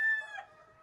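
A rooster at a game farm lets out a short, harmonic-rich crow or call that fades within a second, fairly close and alone.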